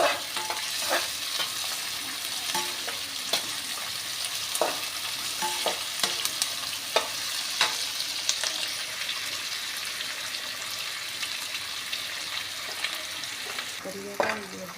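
Drumstick pods with chopped onion frying in a pan for a Punjabi vegetable curry, a steady sizzle under repeated scraping and clinking of a spoon stirring, close and continuous, with a brief louder clatter near the end.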